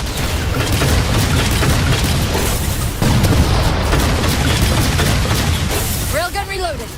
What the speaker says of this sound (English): Railgun reloaded.